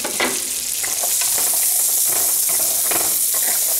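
Acorns stirred and coated in melted butter in a pan, a close continuous buttery sizzle with scraping stirs and soft rattling of nuts repeating every second or so.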